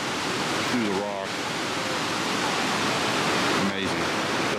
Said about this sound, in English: The water's been through here for millions of years, carving its way through the rock.